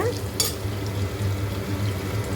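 Vegetables frying in a pan for veg biryani, a steady close sizzle with soft stirring scrapes throughout, one brief brighter clatter near the start, and no talking.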